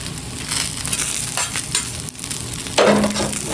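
An omelet sizzles steadily on an Aldi griddle while a spatula stirs and chops through it, with a louder scraping stroke near the end.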